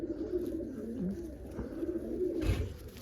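Spotted and jaggery-coloured pigeons coo in soft, low, repeated throaty murmurs that run on steadily, close by, with a muffled thump near the end and no voices.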